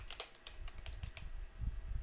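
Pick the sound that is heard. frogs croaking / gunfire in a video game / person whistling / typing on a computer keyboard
typing on a computer keyboard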